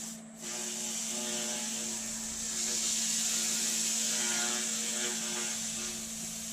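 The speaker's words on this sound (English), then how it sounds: "I'm going to make a couple of quick passes with the sandpaper." Sandpaper rubbing a turned open-segment wood bowl on a spinning lathe, a steady hissing scrape over the constant motor hum, running close and continuous throughout.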